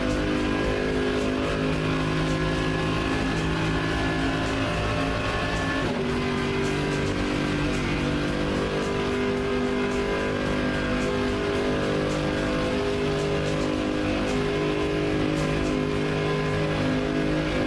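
Mercedes-AMG GT3 race car engine in a racing sim, a steady loud droning whine held at high revs on a straight, with a gear shift partway through and no talk.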